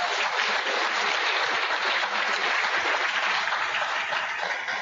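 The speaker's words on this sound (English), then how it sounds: "Let's give these students another round of applause." A group of fourth-grade elementary students claps in a classroom, a thick, continuous patter of many hands at steady loudness from start to finish.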